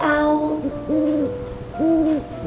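An owl hooting, three clear, close, tonal hoots separated by short pauses, alone without talk.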